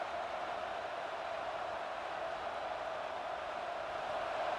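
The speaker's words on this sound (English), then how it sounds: "Listen to the crowd energy here in the early going." A stadium crowd in the EA Sports College Football 26 video game: a steady, distant roar of many voices forming a constant hiss-like wash of cheering with no distinct peaks, heard alone.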